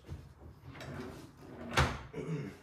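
Drawers of a workshop outfeed and assembly table slide open and shut, several soft rolling scrapes and one sharper knock near the middle, close and fairly quiet.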